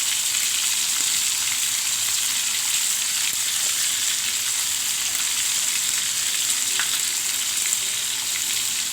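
Liver and onions frying in a pan, with a steady, close, even sizzle and crackle that runs unbroken throughout, with no voices over it.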